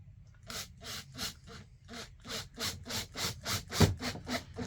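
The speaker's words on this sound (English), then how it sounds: "I'm going to start off just by putting a screw" Repeated rasping, rubbing strokes of a screw being driven into a wooden beam in a polytunnel, about a dozen rhythmic bursts close by, fairly steady with one sharper knock near the end.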